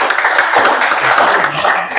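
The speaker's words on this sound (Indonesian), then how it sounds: "tepuk tangan buat kelompok Akmal" Students in a high school physics class applaud a presenting group, producing a dense, continuous patter of clapping that stays fairly loud and close, with faint voices underneath.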